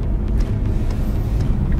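Suzuki Ertiga Sport with automatic transmission driving along, a steady low road and engine rumble heard from inside the cabin, smooth and even with faint higher hiss.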